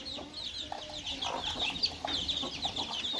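Two hens cluck softly among incubator-hatched chicks, whose high peeping chirps run steadily throughout, the whole brood close by and fairly even in loudness.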